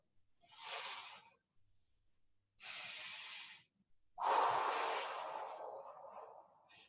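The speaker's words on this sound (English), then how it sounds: "Deep breath in, exhale." Three deep, airy breaths during a core restore exercise class: a slow inhale, another, then a long drawn-out exhale, each close and hissing, separated by short silences.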